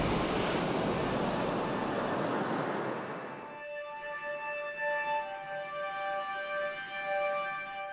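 Open-ocean waves and surf rush loudly as a broad wash for about three and a half seconds, then drop to a faint watery background under a steady tonal hum.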